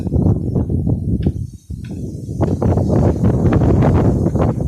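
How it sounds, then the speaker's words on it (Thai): Strong wind before rain buffets the microphone in loud, rumbling gusts that dip briefly and then surge back, continuing throughout. "ลมแรงมากครับผม"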